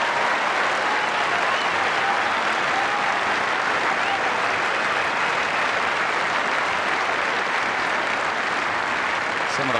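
Tennis crowd at the 2008 Queen's Club final between Nadal and Djokovic applauding a point, some spectators on their feet; dense, loud, sustained clapping and cheering fills the whole stretch without letup.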